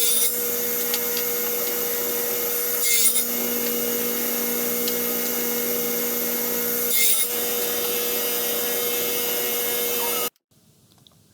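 A wooden block for a leg vise carrier being cut with a power saw, giving a steady, loud, continuous whine that runs about ten seconds with brief surges, then stops abruptly.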